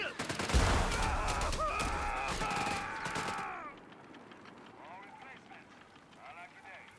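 Suppressing fire in Company of Heroes 3, a sustained rattle of gunfire over a busy battlefield mix for a few seconds, then cutting off to quieter background ambience.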